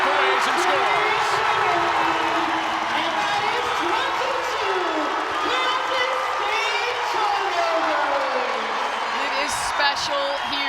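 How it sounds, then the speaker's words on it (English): Women's college basketball home crowd in Morgantown, West Virginia, on its feet cheering and roaring continuously, with sneaker squeaks and a commentator talking over the noise. "This crowd on its feet, they are fired up"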